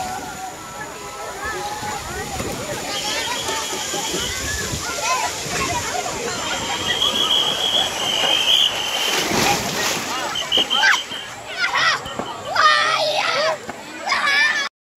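Crowd noise at a water theme park in Arcot, with people splashing in the water, children shouting and voices mixed in throughout as a steady, busy outdoor wash of sound.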